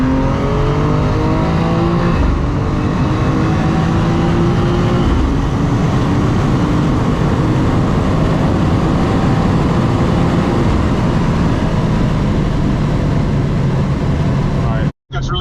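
Two stock 2024 BMW M2 coupes launch side by side from a rolling 60 in third gear, their engines roaring loudly and steadily under hard acceleration for the whole run before cutting off abruptly.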